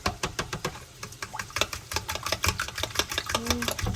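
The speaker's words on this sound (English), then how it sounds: "whisk these up so they're nice and airy and fluffy" Eggs whisked with a fork in a bowl for a breakfast burrito casserole, giving a fast, steady run of light metallic clicks and taps, close and fairly loud, with no talking.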